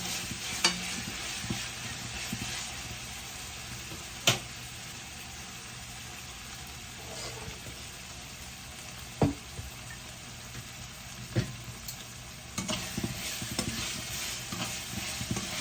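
Crab masala sautéing in a pan for a traditional crab roast, a continuous low sizzle with scraping stirs and occasional sharp clacks of a spoon against the pan, no talking.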